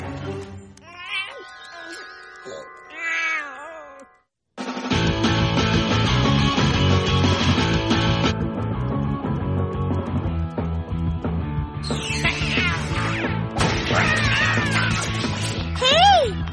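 A cartoon cat meows in a Kid vs Kat episode, with a few stretched, wavering cries at the start, followed by loud, busy music and sound effects that run to the end.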